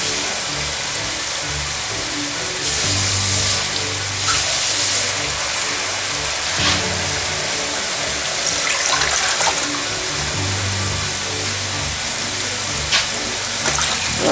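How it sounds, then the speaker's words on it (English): Three cups of water gush steadily into a pot of chicken and vegetables for several seconds, a continuous rushing splash with a few brief clatters over it. "Three cups of water to the pot."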